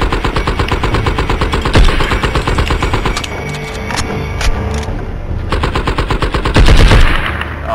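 Rapid machine-gun fire in the video game Blood 'n' Bacon, a loud continuous stream of evenly spaced shots with a few brief pauses and heavier bursts.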